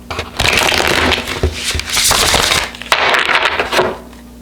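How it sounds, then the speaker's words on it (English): Tarot cards shuffled by hand in a few ordinary riffles, a close, dense run of papery flutters and snaps in bursts with short pauses between. "Do a couple normal shuffles."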